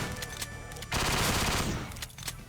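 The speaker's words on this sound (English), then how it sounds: "I gotta love that alt fire on this though" A weapon's alternate fire in a modded Doom video game: a few quick shots, then a loud sustained blast lasting about a second, followed by scattered fainter impacts.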